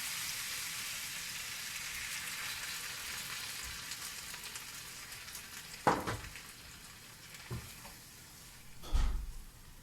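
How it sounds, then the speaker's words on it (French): Food simmering in a pan with a little added water makes a quiet, even bubbling hiss, broken by a few soft knocks and clunks from utensils. "Et laisser mijoter."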